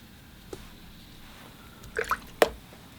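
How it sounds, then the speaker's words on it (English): Watercolor brush swished and tapped in a cup of rinse water, giving a few brief wet splashes and drips, close and fairly quiet against a soft room hiss. "Then I rinse off my brush and then dry it on my tissue here."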